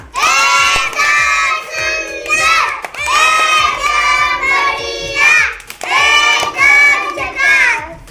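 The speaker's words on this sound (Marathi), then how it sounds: "तिच्यासाठी जोरदार टाळ्या वाजवा" Young schoolchildren in a classroom clap and cheer loudly for a first-grade girl who found the right answer to a two-pen puzzle, a dense continuous burst of applause and shouting lasting throughout.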